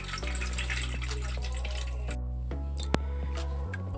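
Soaked oats and their liquid being strained into a large container for Salvadoran-style oat drink, a steady close pouring and trickling of water with drips, continuous throughout.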